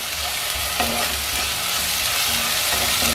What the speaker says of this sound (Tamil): நல்லா பச்சை வாசனை போகிற வரைக்கும் வதக்கணுங்க.